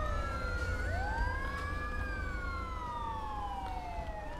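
An ambulance siren in GTA V with the LSPDFR mod, wailing tones sweeping up and down as the vehicle pulls away, loud and continuous over low road rumble.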